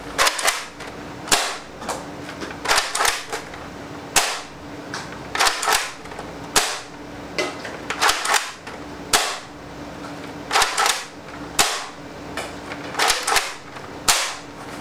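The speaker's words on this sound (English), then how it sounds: "clip loaded with 6 darts, ready for firing" A Nerf Longstrike blaster fires foam darts from a six-dart clip in sharp, loud pops, with rattling priming and handling noises between shots, repeating through the clip.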